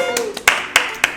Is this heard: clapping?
yes